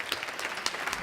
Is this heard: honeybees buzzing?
no